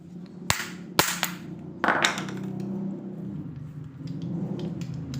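An impact screwdriver is struck with a hammer against the front shock of a Honda Beat FI automatic scooter. A few sharp, ringing metallic blows land close by in quick pairs, then lighter knocks and a low background hum.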